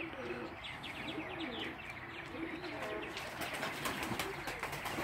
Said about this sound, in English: This pair here is a saddleback homers.